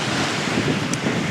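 Ferocious wind roars continuously over surf crashing on a sandstone-cliffed Perth beach, with heavy wind buffeting on the microphone and no voices.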